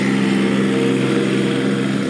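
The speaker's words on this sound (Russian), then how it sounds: "Трактор, он туда-сюда гоняет." A tractor drives back and forth on a road construction site during avenue repairs in Yakutsk, its engine droning loudly and steadily without a break.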